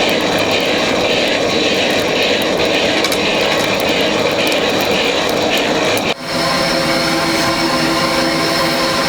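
An electric blower with an impeller feeds a portable coal forge, giving a loud, steady whirring roar that drops off sharply about two-thirds of the way through before settling into a lower, humming drone.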